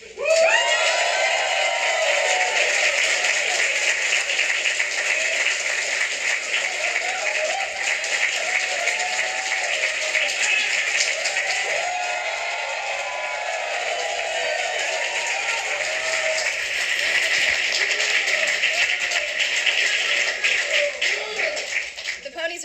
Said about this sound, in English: The audience erupts in wild applause.